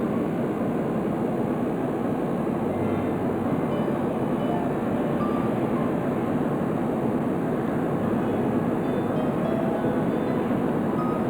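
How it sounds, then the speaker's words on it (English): Skylark VTOL fast response aircraft in Stormworks taking off at full power, giving a steady, loud, unbroken engine roar and rushing airflow throughout with no change in pitch or level. "Just put on full power and rotate whenever the aircraft feels like lifting."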